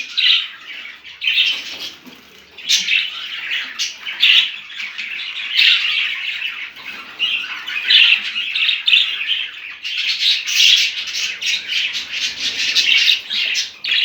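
Budgerigars in a home breeding cage chirp and squawk continuously, a dense, close chatter of sharp bright calls with occasional louder squawks and brief wing flutters, with no talk.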